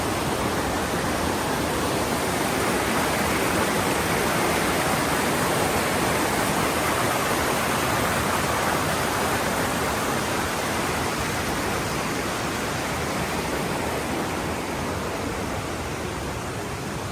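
A Smoky Mountains river rushes in a dense, steady roar of flowing water, loud and close, continuous throughout with no voices.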